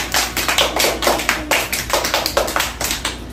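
A small group claps hands steadily at a kids' Independence Day party, a close, dry run of sharp, roughly even slaps with no voices over it.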